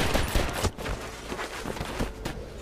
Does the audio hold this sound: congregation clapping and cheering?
no